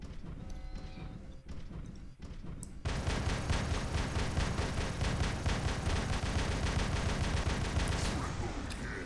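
A minigun in the video game War Robots fires in a dense, rapid, continuous roar that kicks in after a few seconds of quieter battle noise and holds loud and steady to the end.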